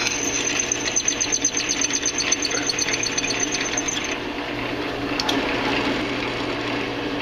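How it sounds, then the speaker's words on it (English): A drill press bores a pilot hole in metal stock, a rapid ticking, ratcheting chatter over the motor's hum for the first few seconds before easing into a steadier whir, close by and unaccompanied by speech. "Okay, we'll drill in a pilot hole here."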